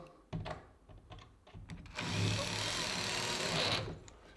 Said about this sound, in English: And it drills itself into the drywall.